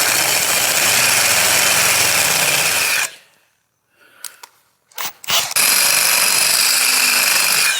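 A power drill with dull bits grinds loudly and steadily during a Yamaha TRI-Z 250 two-stroke engine build, cuts out into silence, then gives short bursts before a long roaring run resumes.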